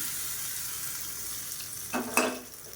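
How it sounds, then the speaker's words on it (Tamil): Mustard seeds, curry leaves, red chillies and asafoetida sizzle steadily in hot oil for a tomato chutney tempering, a close hissing fry that briefly swells with a sharper burst near the end. "இப்போ எப்பயும் போல் கடுகு, கருவேப்பிலை, வரமிளகா, பெருங்காயம் போட்டு தாளிச்சு"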